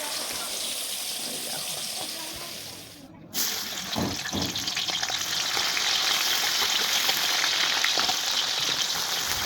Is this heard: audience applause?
no